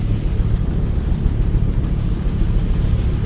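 A helicopter in a Vietnam War video game flies with a steady, dense low rotor-and-engine rumble that holds unbroken and fairly loud throughout, with no talk.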